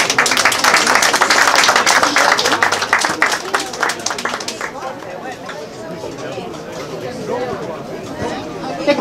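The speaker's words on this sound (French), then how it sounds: "vous pouvez l'applaudir" An audience at an eel festival in Saint-Chamas applauds a young chef with loud, dense clapping that stops about halfway, leaving crowd chatter and voices behind.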